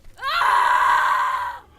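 A single loud, drawn-out scream sound effect on a horror and paranormal radio show rises quickly and holds for over a second before cutting off.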